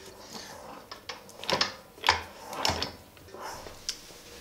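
A Royal Enfield Himalayan engine with a freshly fitted camshaft, turned over by hand with a ratchet, gives close, irregular mechanical clicks and short ratcheting bursts, with some quieter knocks between.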